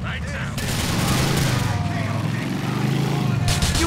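Gunfire in GTA The Lost and Damned during a gang war, a dense, loud burst of shots over a rumbling background, with an angry voice shouting through it.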